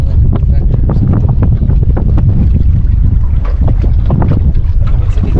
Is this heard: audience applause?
no